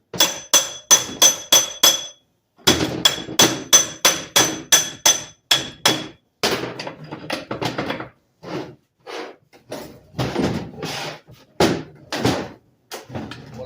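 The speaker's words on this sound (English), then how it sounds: "take a hammer and get it behind it." A hammer taps the center support out of a 4L60E transmission case during a teardown, giving sharp metallic knocks in a quick rhythmic run, then a pause, then further irregular, slightly softer strikes, close and clear.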